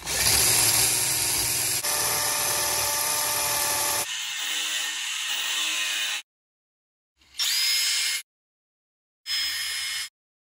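A power tool fitted with an extension drives long screws to fix a frame for dry stone cladding to a wall, whirring loudly in long sustained runs, then two short bursts separated by silence.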